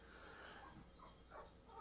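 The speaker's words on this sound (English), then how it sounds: "my little dog is here, and she's a yapper." A small female dog yaps indoors in short, faint bursts over a steady room hum, with no voices present.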